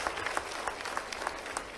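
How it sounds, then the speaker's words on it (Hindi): Steady applause from a student audience at a university youth dialogue event, fairly distant and even, with repeated clap bursts forming a continuous wash of sound and no speech over it. "जोरदार ताली बजाओ।"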